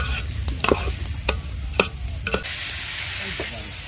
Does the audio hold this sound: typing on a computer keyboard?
no